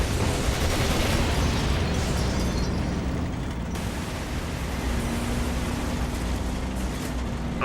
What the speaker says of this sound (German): Wir befinden uns unter Beschuss!